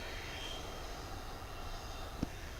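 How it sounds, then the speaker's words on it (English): An American Airlines Boeing 777 jet taking off at DFW Airport, heard as a faint, steady, distant engine roar that holds evenly throughout. "American Airlines 777 off to London"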